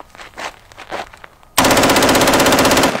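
A full-auto firearm emptying a 20-round magazine in one very loud, rapid continuous burst, preceded by soft handling and footstep sounds.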